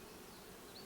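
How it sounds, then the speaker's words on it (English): Bees buzzing around uncut wildflowers in a homestead yard, a faint steady drone with no talking. "there is a lot of bee activity on the wildflowers in my"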